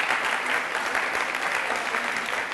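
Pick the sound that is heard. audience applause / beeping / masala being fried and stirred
audience applause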